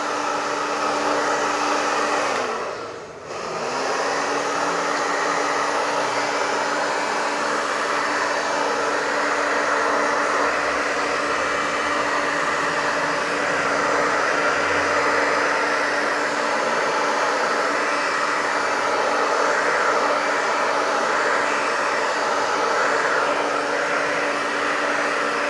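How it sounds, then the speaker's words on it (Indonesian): A hair dryer blows steadily on screen-printed umbrella fabric, a loud continuous whooshing hum that briefly dips in pitch and volume early on before resuming evenly. "kita hair dryer dari depan dan dari belakang atau luar dan dalam kita keringkan juga supaya keringnya merata"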